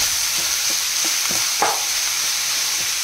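Crushed garlic frying in coconut oil, a loud, close, continuous sizzle with light stirring scrapes throughout and no voices.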